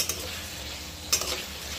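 Potatoes fry in a pan with spices, a steady soft sizzle broken by a couple of sharp scrapes and taps as they are stirred.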